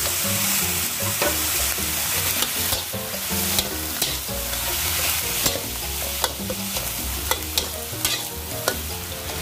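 Cabbage stir-fried with sausage and minced pork, a loud dense sizzle with a rapid run of spatula scrapes and metallic taps against the pan, close up and with no voices.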